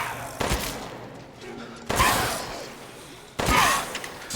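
Three loud shotgun blasts in Resident Evil Village, spaced about a second and a half apart, each with a short echoing decay between them.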